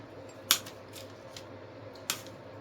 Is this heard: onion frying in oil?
no